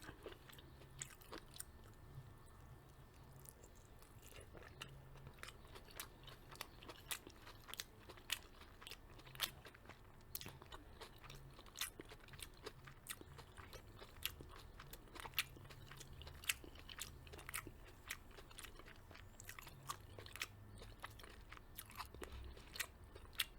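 Cheddar egg bites are chewed close to the mic in a quiet room, soft repeated bites and moist crunchy chewing clicks in an irregular steady rhythm, no talking.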